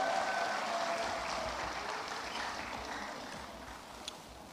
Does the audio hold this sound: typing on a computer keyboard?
no